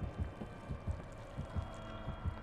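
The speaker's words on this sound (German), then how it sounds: "Herzschlag nimmt ab." Heartbeat effect from the horror game Dead by Daylight, a faint, low, steady thumping in a regular rhythm of paired beats, alone and quiet with a soft hum behind it.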